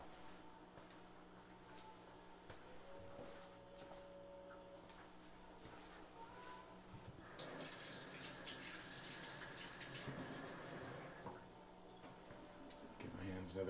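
A kitchen tap runs while hands are rinsed after cooking teriyaki chicken, a faint hiss of water surging louder midway before easing off, with soft clicks and ticks under it.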